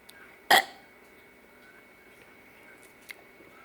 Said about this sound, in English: let me burp one more time